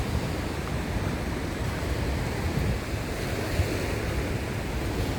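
Sea surf at sunrise roars in a steady, dense wash of breaking waves, loud and continuous, with wind buffeting the microphone throughout and no clear pauses.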